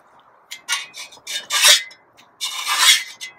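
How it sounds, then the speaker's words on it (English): A fine metal file rasps along the bottom edge of a garden shovel in a series of even pushing strokes, close and fairly loud, with short pauses between passes and no talking. "we're using a fine metal file, okay, as opposed to a rasp"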